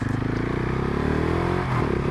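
A 2019 Husqvarna 701 SuperMoto ridden through city streets, its single-cylinder engine droning loud and steady at close range, with wind rush and rattle throughout.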